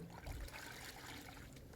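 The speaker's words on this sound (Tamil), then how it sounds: "மறுபடியும் ஒருக்கா கிளறி விட்டு நம்ம அரிசி பருப்பு கழுவுற தண்ணி ஊற்றிக்கலாம்" Rice and lentil washing water poured onto a jasmine plant, heard as a faint, soft trickle and dribble of liquid with a slightly fuller splash near the start.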